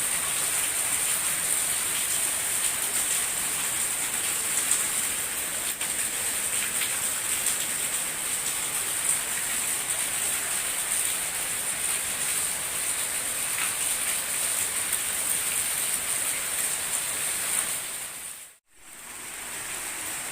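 Heavy rain falls steadily during a flood, making a dense, loud hiss with no pause except one brief dropout near the end.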